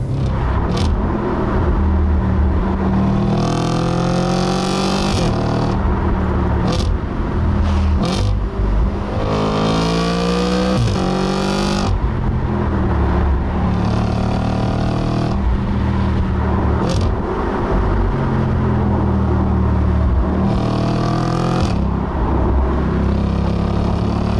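A B8 Audi RS4 on a twisty road gives a loud, steady engine note with fruity revving rises and falls as it accelerates through bends, continuous and close throughout.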